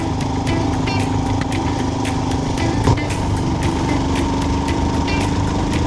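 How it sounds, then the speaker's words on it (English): A Royal Enfield Himalayan 411 motorcycle engine chugging uphill, a steady close single-cylinder thrum with wind rush, constant and loud throughout with no talking. "she chugs a little going up the hills"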